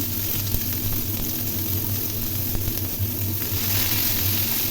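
Chopped onions and green chillies fry in a pan with a steady, soft sizzle close by, broken by occasional faint crackles and no talking.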